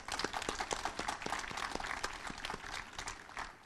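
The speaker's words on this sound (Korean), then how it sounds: "참석자 여러분께서는 다시 한번 큰 박수를 부탁드립니다" A crowd at Korea University's 115th anniversary ceremony gives a quiet, even round of clapping for award recipients, with dense, rapid claps from a large hall that soften slightly toward the end.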